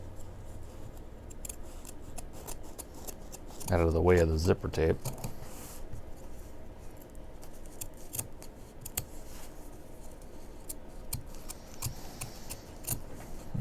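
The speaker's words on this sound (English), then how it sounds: "I'll cut the fabric and interfacing back." Scissors snip back liner fabric and interfacing for a leather bucket bag's drop-in lining, a quick run of close blade cuts in the middle while a voice talks quietly about the work throughout.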